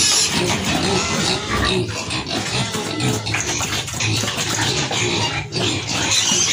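Pigs, sows and a boar, feeding in a farm pen, with dense continuous grunting, snuffling and chewing close by, steady and loud throughout.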